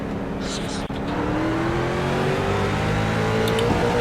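Class C street stock race cars accelerate at Southern National in iRacing, a loud continuous engine drone with rising pitch as the field speeds up, while someone talks over it.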